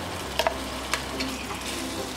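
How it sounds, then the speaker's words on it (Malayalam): Coconut paste for Goan fish curry sautés in a pan, a soft continuous sizzle with a few quick spoon-stirring taps early on. "അരച്ചു വെച്ചിരിക്കുന്ന തേങ്ങയുടെ അരപ്പ് ഇതിലേക്ക് ചേർത്ത് വഴറ്റി കൊടുക്കാം"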